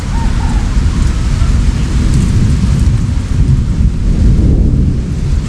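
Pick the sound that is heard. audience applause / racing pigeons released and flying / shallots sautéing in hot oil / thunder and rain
thunder and rain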